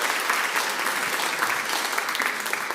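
A studio audience on a game-show grand final breaks into dense, continuous applause, with steady clapping filling the short stretch at even loudness and no talk over it.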